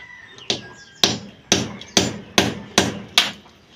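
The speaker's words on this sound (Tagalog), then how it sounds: "Tinitik-tik po niya ang pinaka dingding" Hammer blows on the wall of a damaged piglet pen under repair in a piggery, seven sharp, evenly spaced strikes about half a second apart, close and loud with faint background noise.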